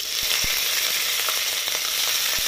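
Mustard seeds, cumin and dried and green chillies sizzle in hot oil for a South Indian karonda dal, a steady close frying hiss with scattered small pops and crackles throughout.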